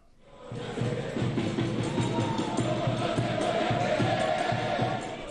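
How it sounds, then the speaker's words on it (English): A small, colourful crowd of football supporters welcoming the Peruvian team at Auckland Airport chants and cheers loudly in a steady, rhythmic roar that rises quickly and holds for several seconds. "a small but colourful and noisy crowd gathered at Auckland Airport this morning to welcome their heroes"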